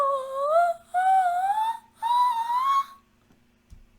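A single voice repeats a sliding, ornamented vocal run in three short rising phrases. It is close and unaccompanied, then fades into near silence with a small knock at the end.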